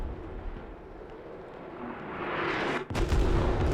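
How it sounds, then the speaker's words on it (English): Heavy airstrike detonations in the tactical shooter Squad, a rising roar of blasts building to a loud, close boom and sustained rumble near the end. "Very, very devastating airstrike."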